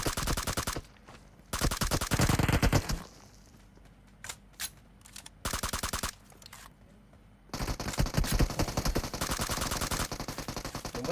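Gunfire rings out in the mobile battle royale game PUBG Mobile: long, rapid automatic bursts separated by short lulls of quieter scattered shots, loud and close throughout.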